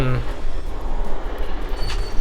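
A high-speed train rumbles past in a Roblox game, a steady low roar with rattling, loud and close, heard alongside a pickup truck in the scene.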